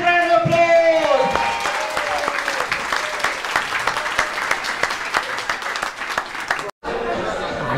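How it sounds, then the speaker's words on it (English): A drag show audience breaks into loud, sustained applause and cheering, dense clapping continuing for several seconds before a brief cut near the end, with a voice calling out over it at the start. "Give Steve a massive round of applause!"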